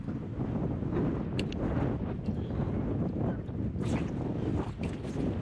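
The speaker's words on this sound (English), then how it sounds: "This wind makes it so difficult." Strong outdoor wind buffets the microphone, a loud, continuous rushing roar with gusty surges and faint clicks, no talking heard.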